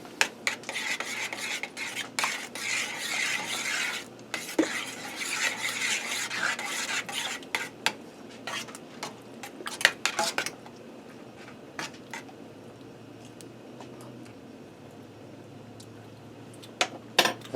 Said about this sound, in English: Alright, give this a stir and a taste.